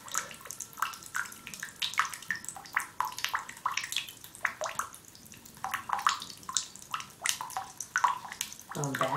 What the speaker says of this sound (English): Going back to the drips.